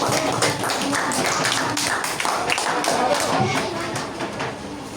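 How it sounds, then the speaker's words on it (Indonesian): Students in a sixth-grade Indonesian classroom clap together after a group presentation, a busy, fairly loud patter of hands with a few sharper claps standing out, sustained for several seconds. "Oke, tepuk tangan."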